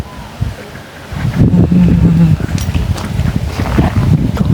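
A cool wind blows across the microphone outdoors, a loud rumbling buffet that rises and holds, while someone talks over it.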